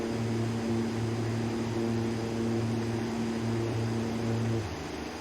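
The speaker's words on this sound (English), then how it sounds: "And there goes the engine winding down." An aircraft engine in a flight simulator game hums with a steady droning tone that drops away near the end as it winds down, alone and moderately loud.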